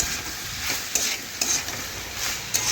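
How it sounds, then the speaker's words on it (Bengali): Pumpkin curry stirred and fried in a pan: a steady close sizzle with a few spatula scrapes and taps against the pan at irregular intervals. "আমি কিছুক্ষণ নাড়াচাড়া করে রান্না করে নিচ্ছি।"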